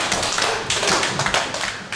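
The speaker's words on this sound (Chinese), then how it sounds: "有没有老师愿意帮我拍手拍4下？" Hand claps ring out in a classroom-style space, a sharp series of close, crisp smacks repeating in a steady burst.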